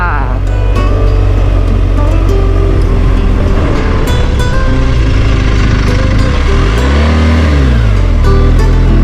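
A car drives a forest road on the route from Chae Son National Park toward the back of Mae Kampong village. Its engine is loud and close, with drone rising and falling in pitch as it works, and a voice speaks briefly.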